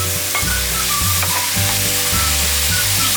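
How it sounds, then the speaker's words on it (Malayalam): Eight onions sautéing with a little salt in a pan for a Kerala fish gravy, a steady close sizzle with repeated stirring scrapes and clinks running throughout, no talking. "സവാള ഒന്ന് നല്ലപോലെ വഴറ്റണം."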